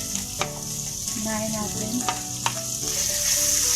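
Chopped ginger sizzling and frying in a hot pan at the start of cooking Bicolano shark kinunot, a steady close crackle with light stirring clicks, while a voice briefly speaks over it.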